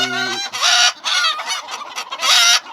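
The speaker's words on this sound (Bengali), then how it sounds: "দেখেন দেশি মুরগি" Native desi chickens cluck close by in quick, repeated bursts of clucking and squawking that come in short, uneven bouts.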